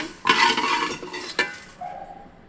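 Whole spices, cumin among them, roast in a pan for fish curry, a short burst of sizzling and stirring with a couple of utensil clinks against the pan, near and moderately loud, then fading.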